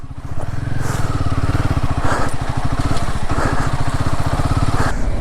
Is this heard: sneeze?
no